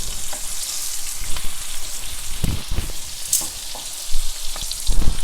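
Pieces of spicy honey garlic chicken sizzle steadily in a hot pan, a constant crackling hiss broken by occasional pops and a few louder bumps of handling, with no talking.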